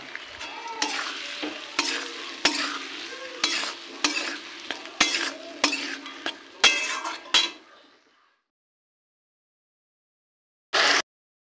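Fried potatoes and a prepared spice paste are stirred in a sizzling pan for a vegetarian dish, with rhythmic scraping strokes about once a second under constant frying hiss. Silence follows, then one short metallic clank.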